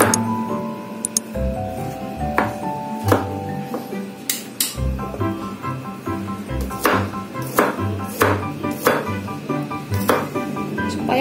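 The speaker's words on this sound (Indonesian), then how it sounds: "kita potong-potong bumbunya ya yang mau dihaluskan" Knife chopping spices for rawon on a cutting board, a steady run of sharp, close taps and clicks in an uneven rhythm, with faint kitchen clinks around them.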